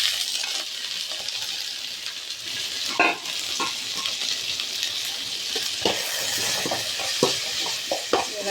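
Turkey berries fry with onion and tomato in a pan for a Tamil-style varuval, a steady sizzle broken by sharp clinks and scrapes of a spoon stirring against the metal.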